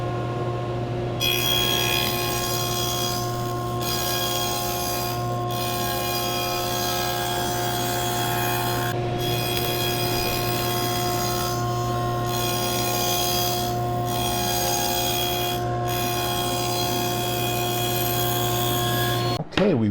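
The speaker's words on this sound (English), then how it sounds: "we have our first dado cut" A dado blade on a saw cuts through wood for a cabinet divider slot, a steady loud whining drone with a dust collector running, sustained for the whole stretch with brief dips and a sharp end.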